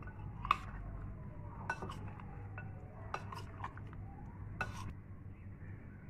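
Yogurt, turmeric and salt being mixed into chicken for a marinade, with scattered clinks and scrapes of a spoon against a bowl over a low steady background hum, fairly quiet and irregular.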